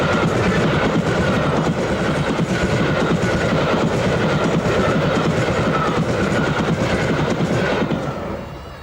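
The steam locomotive Mallard passes on the Hull to Selby main line at Howden, a loud sustained roar of wheels and carriages rumbling past close by, fading slightly at the end.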